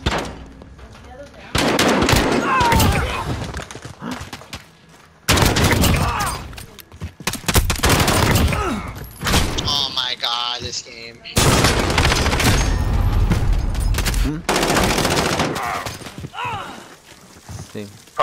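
Pistol gunfire in a Modern Warfare gun game match, loud sharp shots in bursts across the clip, mixed with other in-game firing and effects, with players talking over the action.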